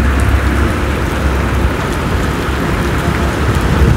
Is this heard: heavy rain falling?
yes